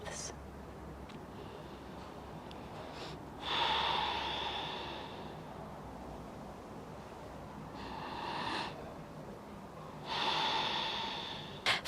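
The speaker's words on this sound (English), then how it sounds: "Stay here for 2 more breaths." Yoga breathing during a warrior 2 pose in a vinyasa flow class, with three slow, audible nasal breaths, each a soft airy swell lasting about a second, close to the microphone over a steady background hiss.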